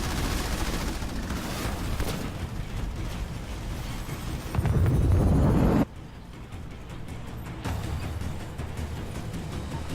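Sustained rapid gunfire and explosions rattle through a Halo Wars 2 battle, with a dense, loud barrage swelling midway before dropping to a lower, continuous crackle of distant combat.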